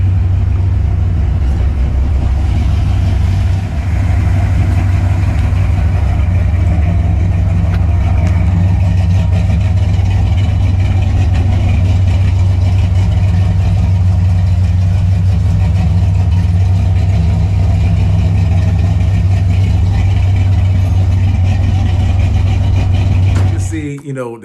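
A broken-down, falling-apart car engine idling continuously with a deep, steady low rumble and droning hum, loud and close, with no break until it cuts off at the very end.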